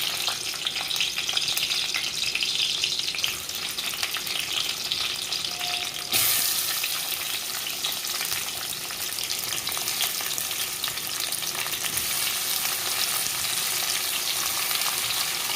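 Onion frying in hot oil in a kadhai for a paneer and peas gravy, a steady dense sizzle running the whole time with a brief louder crackle partway through, close and continuous, no voices.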